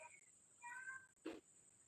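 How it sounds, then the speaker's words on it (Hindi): A pet cat gives a couple of short, faint meows, one after another, at close range against a quiet background. "जोई म्यू म्यू करो"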